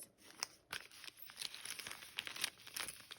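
Journaling cards and papers handled from a junk journal swap package, soft close crinkling and rustling in quick irregular bursts, quiet and with no voices.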